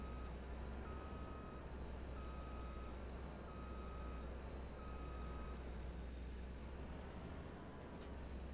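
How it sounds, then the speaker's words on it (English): A truck backing up with a trailer in a driving game, its reversing alarm sounding five evenly spaced long beeps over a low, steady engine drone, then stopping. "Reversing with a trailer is always a challenge."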